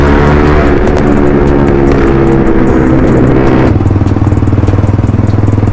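Motorcycle engine running steadily as the bike rides along a road, a loud continuous low rumble close by, with the engine note shifting slightly toward the end and no talking.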